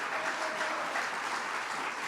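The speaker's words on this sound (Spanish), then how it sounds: "Dele un aplauso al Rey Todopoderoso" Church congregation clapping for God during a Spanish-language sermon, a dense, steady round of applause that fills the whole moment with no voice over it.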